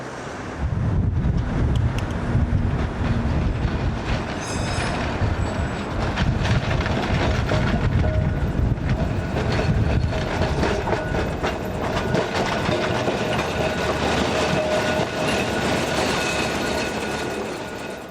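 A 1937 Brush-built tram rumbles steadily along the track in Fleetwood with a continuous low roar, rattling and clacking wheels, and faint wind noise throughout.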